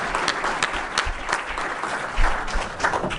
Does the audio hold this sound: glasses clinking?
no